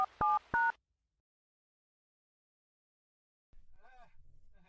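A telephone keypad sends out two short dialing tones, one right after the other. A long silence follows, and then a faint voice speaks in the distance.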